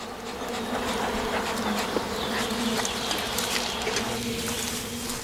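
Honeybees swarm and buzz around their hive while a beekeeper works with smoke, a dense, continuous droning hum that stays steady and close throughout, with no voices.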